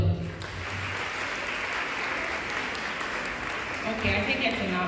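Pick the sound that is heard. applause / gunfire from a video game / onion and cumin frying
applause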